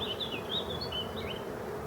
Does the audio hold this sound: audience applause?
no